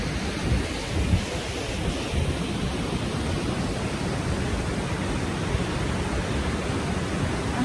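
The Grawa Alm waterfall in the Stubai Valley, Austria, pours down with a steady, dense roar of rushing water that stays close and constant throughout, with no voices.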